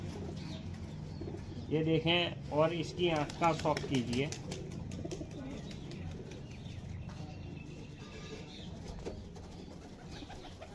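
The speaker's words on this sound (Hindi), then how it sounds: "ये गोल्डन कबूतर है।" A golden pigeon coos in a short run of throaty, wavering calls, close by, while someone talks over and around it, followed by a few faint soft flutters.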